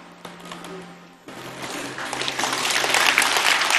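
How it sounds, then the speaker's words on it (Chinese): Audience applause that starts sparse and quiet, then swells into steady, growing clapping from a studio crowd over a faint hum. "大家给你们鼓掌"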